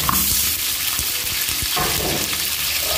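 Chili chicken pieces roasting in a hot pan give off a steady, close frying hiss, with soft stirring scrapes and clicks scattered through it.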